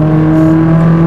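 A Ferrari 458 Italia Oakley Design revs hard on the Mortefontaine circuit, its engine holding a loud, steady, high-pitched mechanical wail with strong tonal harmonics, close and unbroken with no voices.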